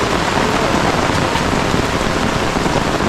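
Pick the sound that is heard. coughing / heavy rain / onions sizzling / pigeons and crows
heavy rain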